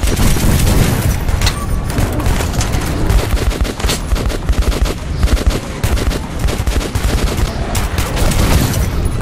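Gunfire rattles in the video game Metro 2033 as loud, close bursts of rapid automatic shots, with heavy booming impacts mixed in throughout.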